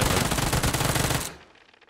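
Rapid, sustained automatic Uzi gunfire in the video game PUBG, loud and relentless, that cuts off abruptly near the end, leaving a faint decaying tail.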